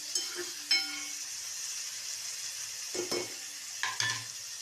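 Chopped onion fries in oil with a constant, close sizzle, while occasional light clinks and scrapes of a spoon against the pan sound over it.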